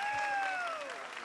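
Studio audience applause on a Turkish television show, a steady dense wash of clapping heard close, with a sustained tone fading beneath it and no one speaking over it.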